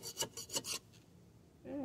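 Scraping caked grass and dirt, with mold and mildew, off the underside of a lawnmower deck: five rhythmic rasping strokes close up, then a pause and a faint tonal sound at the end.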